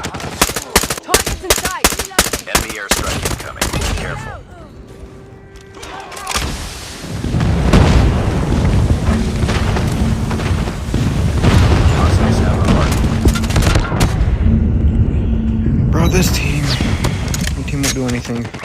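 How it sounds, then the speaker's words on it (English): Airstrike explosions in Call of Duty: a rapid burst of sharp gunfire gives way to heavy, rolling booms and a loud, sustained rumble that lingers for many seconds. "Enemy airstrike incoming."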